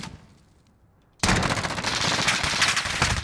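Call of Duty Gunfight gunfire bursts in after a second of near quiet, then continues as dense, rapid automatic fire, loud and close, with no talk over it.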